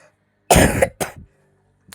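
A single harsh cough with a short follow-up cough, then a faint throat sound, set against near silence.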